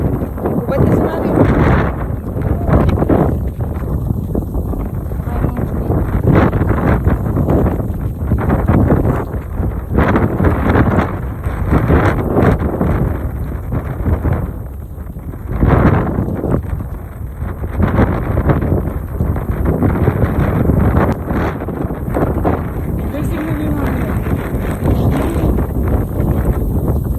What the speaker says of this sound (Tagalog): Grabe yung hangin dito, guys.